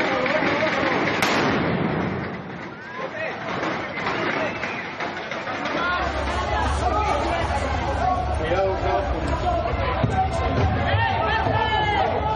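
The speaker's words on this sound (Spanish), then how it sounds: "Lanzaron piedras y cohetes a los policías que resguardaban la Secretaría de Gobernación." Rockets and firecrackers are thrown at police guarding a government building during a street protest: scattered sharp pops and bangs ring out amid a noisy crowd babble, with a narrator talking over the scene.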